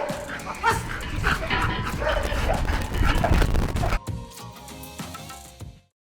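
A railway police squad dog, such as a German Shepherd, Belgian Malinois or Doberman, barks and yips repeatedly at close range, with whimpers among the barks, then the sound cuts off abruptly.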